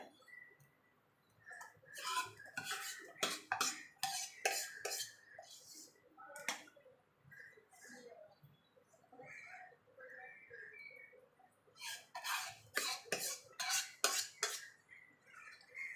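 Spoon scraping and clinking against a pot while Gobindobhog rice kheer is stirred, in bursts of repeated metallic taps with quieter pauses between, close up and alone.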